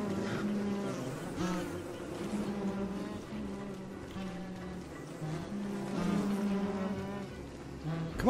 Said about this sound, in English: He's gonna die from the bees.